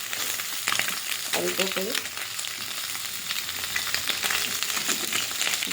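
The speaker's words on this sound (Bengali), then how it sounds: "এই মাছগুলো ভেজে নেব।" Small mourala fish frying in hot oil, a steady dense sizzle running throughout, with a brief voice speaking near the middle.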